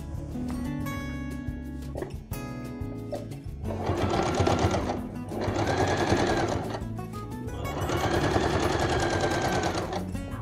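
Sewing machine stitching the seams of a men's vest, close and clear, running in three sustained bursts of rapid mechanical chatter separated by brief pauses, with softer handling noises before the first burst.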